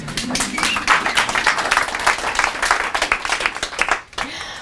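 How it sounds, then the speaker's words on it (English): A crowd claps loudly and steadily for several seconds, dense overlapping hand claps that fade out near the end. "Can I have a round of applause, please?"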